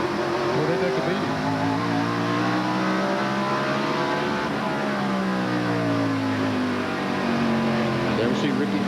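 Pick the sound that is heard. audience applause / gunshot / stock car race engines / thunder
stock car race engines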